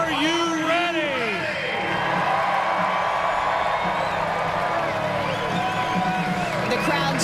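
A large Indianapolis 500 crowd cheering and whooping at the speedway before the 2015 race, a steady roar of many voices with a voice speaking over it.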